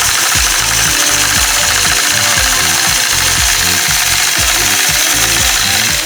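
A domestic sewing machine stitches free-motion ruler quilting with a steady, fast, rhythmic chatter of needle strokes, loud and close, running continuously without talk.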